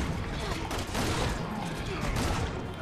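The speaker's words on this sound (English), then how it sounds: "I'm shooting his arm." Gunfire in the video game Resident Evil 6, a dense continuous rattle of shots under a player talking, steady and fairly quiet throughout.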